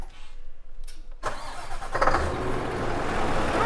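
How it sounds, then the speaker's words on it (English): A Scania 770 V8 truck engine cranks and fires up after a short quiet pause, catching with a sharp burst and settling into a rough, rising idle close by. "let's start it up, give you a sound of the engine"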